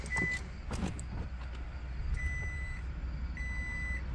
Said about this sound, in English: So I'm going to start the car now.